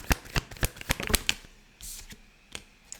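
Tarot cards being shuffled and handled at close range, a quick series of sharp riffling snaps followed by softer sliding and a couple of lone taps.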